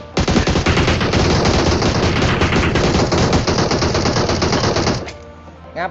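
Sustained loud automatic gunfire in the mobile battle royale game PUBG Mobile, a dense continuous stream of rapid shots lasting about five seconds before cutting off abruptly.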